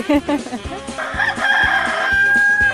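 After a few brief clucks, a rooster lets out one long, loud crow that rises and holds, close by.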